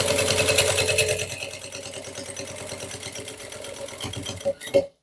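A sewing machine stitches thick synthetic bag material, a fast continuous mechanical whirring close by that slows and stops near the end.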